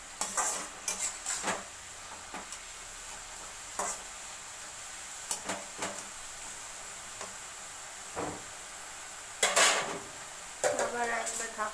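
Red amaranth greens being stirred in a pan, with a ladle scraping and clinking against the metal in scattered bursts over a faint sizzle, fairly close.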